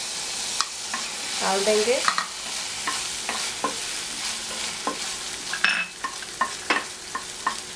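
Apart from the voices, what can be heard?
stir-frying cauliflower manchurian in a pan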